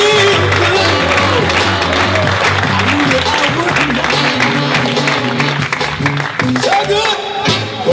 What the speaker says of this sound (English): please give a nice, warm round of appreciation and applause for Tim Dominy and also his wife